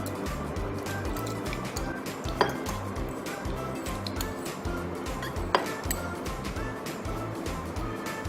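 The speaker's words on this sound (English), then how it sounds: "So first I'm going to place these tapioca balls in the glass." Boiled tapioca balls being placed in a glass, heard as a steady run of light clinks and taps against glass and cutlery, close and moderately loud, with two sharper clinks standing out.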